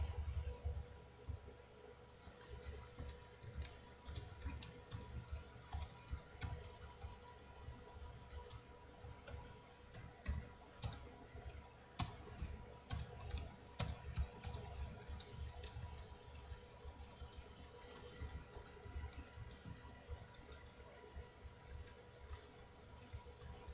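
Steady computer keyboard typing during a parallel and distributed processing lab session, with continuous soft key clicks at a close, even rhythm and no talking.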